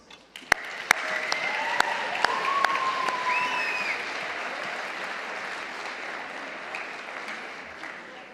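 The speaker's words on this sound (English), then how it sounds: "a big round of applause to each of those award winners" Award winners at a Jewish community youth volunteering celebration receive applause: a broad, sustained wash of crowd clapping with a few sharp close claps, faint whistles and some voices mixed in, tapering slightly toward the end.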